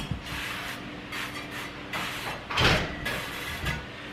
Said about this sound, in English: So I'm just spraying those.